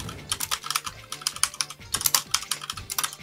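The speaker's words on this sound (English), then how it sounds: "I'm sorry if my keyboard clacking is annoying" Mechanical keyboard typing during an online Puyo Puyo Tetris match: a quick, steady run of sharp clacky keystrokes with bursts of faster presses, close and fairly loud, with no voices.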